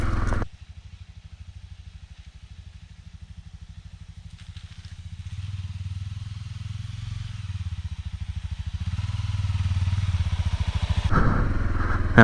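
A Honda CRF dual sport motorcycle rides a snowy abandoned logging road, its single-cylinder engine thumping in a steady, rapid low pulse up close, with a rise in revs near the end.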